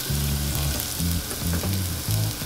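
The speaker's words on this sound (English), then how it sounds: "Now we're going to saute 2 cloves of garlic." Two cloves of garlic saute in about a tablespoon of hot oil in a pan, a loud, close, continuous sizzle with crackles and low bubbling pulses and no voices.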